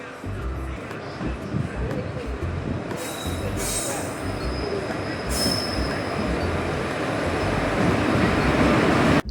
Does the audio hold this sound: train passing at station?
yes